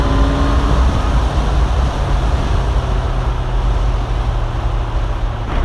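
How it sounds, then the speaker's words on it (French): A steady, loud four-cylinder engine drone from a 2017 Honda CB 1100 RS motorcycle holds at a constant pitch throughout, a deep multi-cylinder rumble with no talking over it. "Et quel coffre il a, ce 4 cylindres!"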